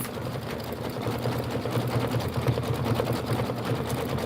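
A sewing machine stitches a heart quilt block, its rapid needle chatter running steadily and fairly quietly up close, alone without speech.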